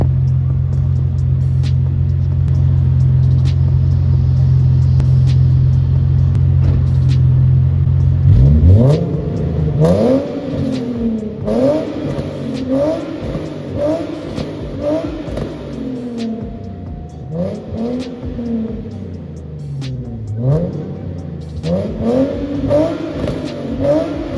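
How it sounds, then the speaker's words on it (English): A Nissan 370Z idles with a deep steady rumble, then the engine revs repeatedly, rising and falling in throaty bursts from a full ISR aftermarket exhaust, close by. "Let's get a little sound clip of a full ISR ISR exhaust."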